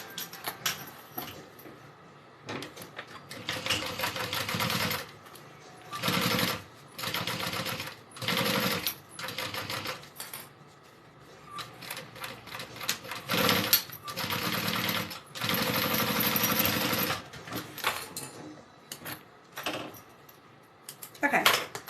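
A sewing machine top stitches a bag in many short, stop-start bursts of close, busy whirring, broken by brief pauses and light handling clatter.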